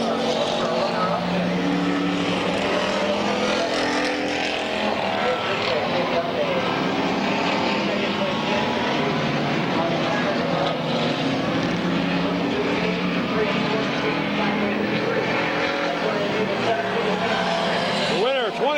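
Race cars roar as they lap Midvale Speedway. The dense engine noise is loud and continuous, with crowd and track ambience throughout and some tire noise.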